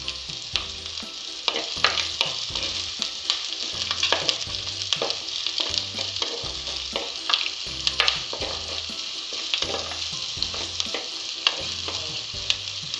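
Onions and curry leaves sautéing in a pan for a Malabar sardine curry, a steady close sizzle with rhythmic stirring scrapes of a spoon, no talk.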